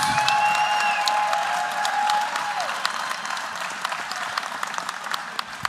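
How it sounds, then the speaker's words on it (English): Crowd at a boxing match applauding both fighters after five rounds, a loud, dense burst of clapping and cheering that stays strong and slowly thins out over several seconds. "a round of applause for both these athletes,"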